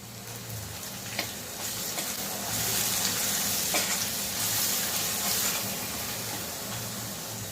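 Garlic cloves, green chillies and curry leaves sautéing in hot oil with salt and turmeric, a continuous close sizzle with occasional spoon scrapes and stirring, no voices.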